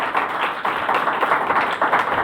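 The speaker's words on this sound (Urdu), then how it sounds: "اس کو بھرپور تالیوں سے ویلکم کریں" Congregation clapping in a church service, a steady crackle of many hands at medium distance lasting a couple of seconds, with no voices over it.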